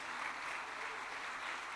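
A church congregation claps for several seconds, a soft, dense wash of many hands heard from a distance and fairly faint, with no speech over it.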